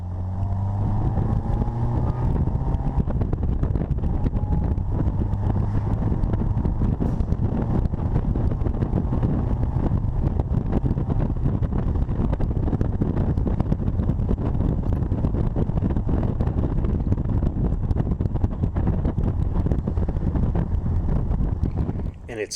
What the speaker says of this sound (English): listen to how nicely this car runs